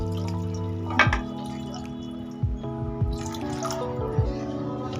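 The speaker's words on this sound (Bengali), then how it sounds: "এই সময় এর মধ্যে দেব পরিমাণ মতো জল" Water is poured into a simmering paneer gravy, with a few separate drippy splashes and plops over a steady tonal hum, moderately close, with no voices.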